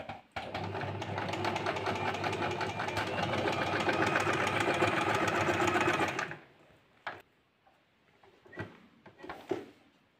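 A sewing machine stitches an embroidered ornamental pattern onto a prayer-rug cloth, a loud rapid even hum of needle strokes for about six seconds, then stops, leaving scattered handling clicks and rustles.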